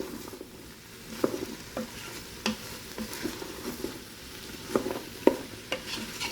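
Carrots, potatoes and celery sauté in a Ninja Foodi pot, a soft sizzle broken by scattered clicks and scrapes of a utensil stirring the vegetables, fairly quiet with no voice.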